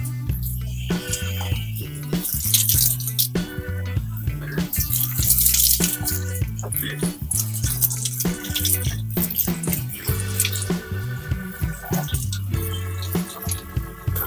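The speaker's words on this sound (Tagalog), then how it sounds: "Tubig lang ang panlinis dyan mga guys." Tap water splashes steadily while rinsing out the tank of an air cooler, a continuous wash that sits under louder background music with no talking.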